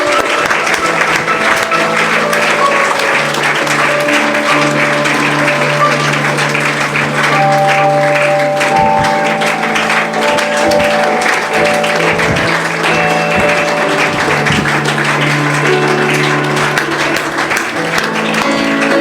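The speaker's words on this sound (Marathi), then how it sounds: "आपण सर्वांनी टाळ्यांचा गजर सुरूच ठेवूया." Sustained applause from a seated crowd at a felicitation ceremony honouring guests, dense, loud and continuous throughout with no break, a voice faintly mixed in beneath the clapping.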